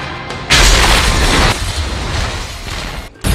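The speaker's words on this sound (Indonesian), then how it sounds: "Setelah Danny jatuh dari ledakan bom" A bomb explodes in a gangster action film, a loud deep boom that bursts in after a brief lead-in and rumbles on for a couple of seconds before an abrupt cut.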